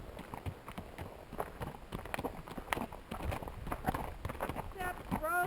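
Two horses' hooves clip-clop along a trail by Mill Creek on a sunny morning, a quick irregular run of close, crisp hoofbeats with a faint voice briefly under them near the end.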